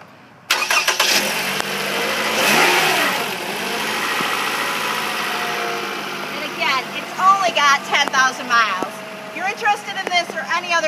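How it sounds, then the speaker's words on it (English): A 2013 Toyota RAV4 engine cranks and catches with a sharp start, then settles into a steady, close idle that runs for the rest of the stretch while a person talks over it in the second half. "I'm going to pop the hood and start the motor so you can hear this baby run."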